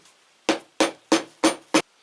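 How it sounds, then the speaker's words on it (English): A leatherworking hammer strikes leather five times in a steady rhythm while pressing the edges of a knife sheath together; each blow is a sharp, close, loud tap. "Now I've got a leatherworking hammer."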